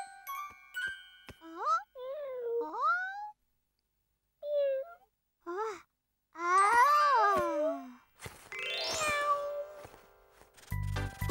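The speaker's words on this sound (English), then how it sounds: "It's Ginger Cat" A cat meows several times in short, rising and falling cries separated by pauses, close and clear, ending with a brief tinkling chime.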